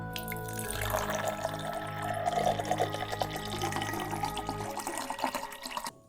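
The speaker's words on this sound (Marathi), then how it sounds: "काही वेळानंतर परत एकदा पाण्याचा आवाज येऊ लागलो." Water running from a bathroom tap at night pours in a steady, continuous stream under a low hum, stopping abruptly at the end, with no voices.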